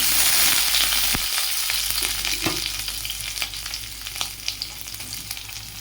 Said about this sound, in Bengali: এবার একটু ভাজা ভাজা করে নেব